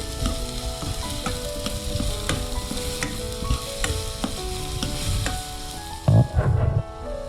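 Onions, green chillies and curry leaves sauté in a pan for Kerala-style tapioca with egg, a steady hiss of frying broken by repeated light taps and scrapes of stirring, with a few louder clunks near the end.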